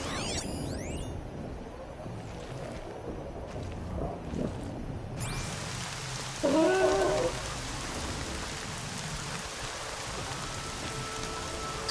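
Steady rain falls in the video game Horizon Zero Dawn, a continuous hiss throughout. A brief tonal call briefly rises above it midway.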